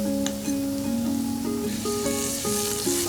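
Butter sizzling in extra virgin olive oil in a pot, the start of a roe deer stracotto for a pasta timballo; a steady close sizzle runs throughout under a layer of sustained musical tones.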